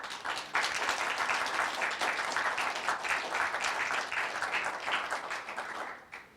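Sustained applause from an audience honouring contestants at a high school poetry recitation competition, dense steady clapping that swells in after a brief start and holds evenly before cutting off near the end.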